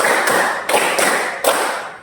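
Children clap their hands through a counting game, a steady run of sharp, close claps with a few louder accents, no voices in between.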